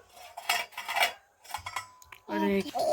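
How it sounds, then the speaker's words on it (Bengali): A knife cuts through homemade food made from leftover rice and garden vegetables, giving a few sharp scraping clinks against a plate, with a brief voice near the end. "এই যে ছুরিটা দিয়ে কাটি"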